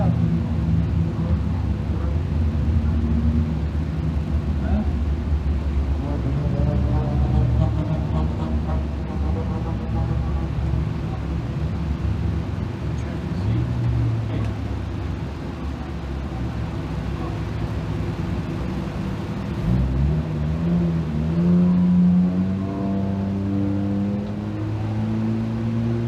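Race cars lap a short oval track under a yellow caution, engines droning and rising and falling at moderate pace from a distance, a steady mechanical hum with a track announcer's voice talking over it.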